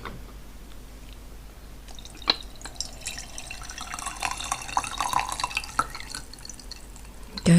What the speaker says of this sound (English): I'm going to pour some green tea